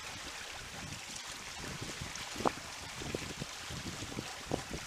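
Sailing boat Everhopeful moving through water at about three knots, a soft continuous wash and trickle of water along the hull with light wind, faint and close, with a few small creaks or knocks.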